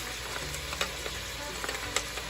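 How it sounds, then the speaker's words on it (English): Red chili peppers sizzling in a pan with onions, a steady loud hiss of frying punctuated by a few sharp crackles and light stirring clicks, with no talking. "So next we're going to throw in the red chili peppers"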